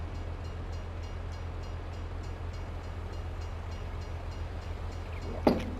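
A train in the farming video game Farming Simulator 22 rumbles past as a steady, low, continuous roll with faint rhythmic clatter. A short, sharp burst sounds near the end.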